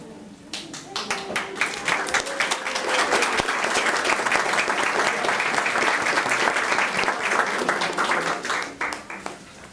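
Sustained applause from a school committee meeting audience, dense clapping that swells and holds for several seconds before tapering off, with a few voices faintly mixed in.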